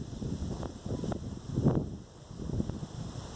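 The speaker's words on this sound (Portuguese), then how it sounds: "ventando bastante aqui" Low rumbling buffets of wind hit the microphone in uneven gusts, a dull muffled roar with no voices.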